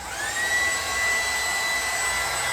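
Vacuum hair clippers run with a loud, steady airy whine and rushing suction noise close up, continuous and unbroken, with no voices.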